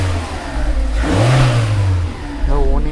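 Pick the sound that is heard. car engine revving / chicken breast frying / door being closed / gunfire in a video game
car engine revving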